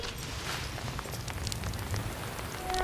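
Summer rain falls steadily as a broad, even patter and hiss, close and continuous throughout with no voices.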